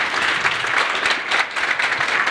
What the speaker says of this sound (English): Can we give a big round of applause to the panel,